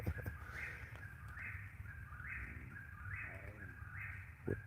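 A whippoorwill calls outdoors, its whistled phrase repeating about five times in an even rhythm, moderately distant over a low rumbling background.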